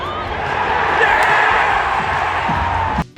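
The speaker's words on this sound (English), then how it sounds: "listen to the crowd when Altuve got out for the 5th time" Crowd noise swells at a Twins home opener baseball game as a batter is put out, a broad roar of cheering voices that holds steady and then drops away.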